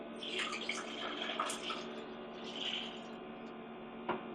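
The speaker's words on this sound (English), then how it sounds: "I'm going to pour the rest of this water in here." Water is poured steadily into an ice machine during cleaning, a soft continuous splashing trickle with faint hum beneath and a small clunk near the end, fairly quiet and close.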